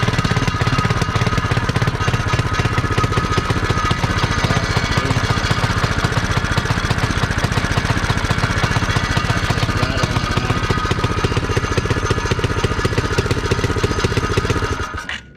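A rough old engine runs loud and steady, its loose exhaust rattling and chattering throughout before cutting off abruptly at the end.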